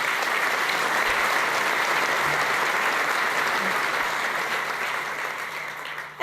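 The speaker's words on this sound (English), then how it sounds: "How about a big round of applause for our sponsors?" A banquet crowd at an ethnic business awards gala dinner claps steadily for the sponsors, a dense, sustained roar of applause that holds level and then tapers slightly at the end.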